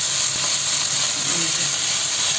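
Ground spices go into a hot pan of onions and ginger paste for a Bengali egg and potato curry. A steady, close sizzle and hiss runs throughout, with a faint scrape of stirring.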